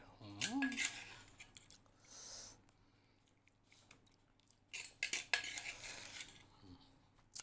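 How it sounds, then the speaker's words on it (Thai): Utensils clink and scrape against a plate while Thai papaya salad is scooped out, two clusters of close, bright metallic scrapes and taps separated by a quieter stretch. "เสร็จแล้วครับ มาตักใส่จานเลย"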